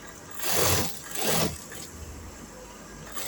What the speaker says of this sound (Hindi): अब मैं सिलाई लगा रहा हूँ।